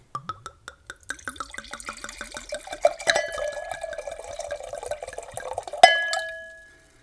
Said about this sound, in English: ASMR pour number 1